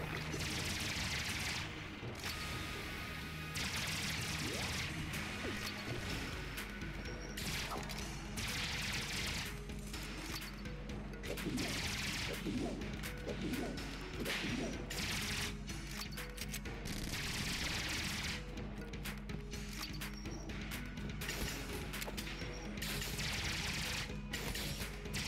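Gunfire from the BSG and a laser rifle in Enter the Gungeon erupts in dense, rapid bursts of shots and crashes over a looping game soundtrack, loud and continuous with short breaks.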